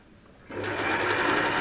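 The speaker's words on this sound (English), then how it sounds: "So my sewing machine is set to zigzag." A sewing machine set to zigzag stitch runs along the edge of backing fabric for faux fur patchwork, starting abruptly after a quiet moment and whirring steadily and close with a fast mechanical rhythm.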